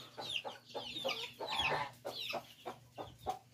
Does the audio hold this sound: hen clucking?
yes